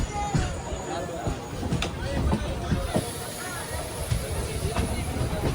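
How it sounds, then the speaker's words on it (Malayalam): The Matsyagandha Express pulls into Udupi railway station, a continuous rumble and rattle of rail cars with hiss, under a busy crowd murmur and a nearby voice talking. "ട്രെയിൻ ഇപ്പോൾ ഉടുപ്പി റെയിൽവേ സ്റ്റേഷനിലേക്ക് ഇതാ എത്തുകയാണ്"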